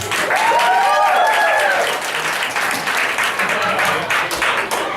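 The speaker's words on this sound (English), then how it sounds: "Proud parents in the building, round of applause." Comedy club crowd gives a round of applause with some cheering. A voice rises over the clapping in the first two seconds, then scattered, uneven claps continue at moderate loudness.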